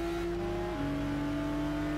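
A Nissan Skyline R34 in Gran Turismo 6 holds a steady engine drone, its pitch stepping down partway through as it downshifts into second, then settling at a lower, even note with no talk.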